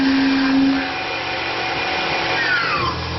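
A Tormach PCNC 1100 CNC mill cuts aluminum with a carbide roughing end mill, giving a dense, steady grinding roar close by and a thin tone that sweeps downward near the end.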